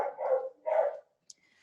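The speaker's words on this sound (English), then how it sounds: "You might hear my dog in the background." A dog barks twice in the background, two muffled, fairly distant woofs in quick succession followed by quiet, with no talking.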